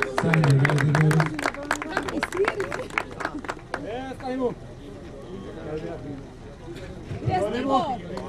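A crowd applauds a female off-road racer at an off-road race final. Loud clapping opens the clip and fades within a couple of seconds, then an announcer speaks over lighter crowd noise.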